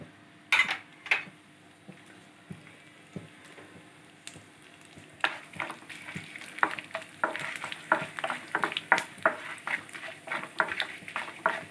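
Crackling sizzle of tempering seeds and a bay leaf hitting hot oil, sharp pops growing denser and louder, with occasional clinks of a utensil against the pan.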